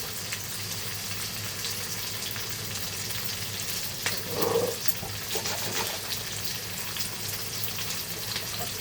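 Onion and capsicum frying in a pan for a prawn keema chilli dish, with a steady moderate sizzle and a brief louder burst of hissing and stirring midway.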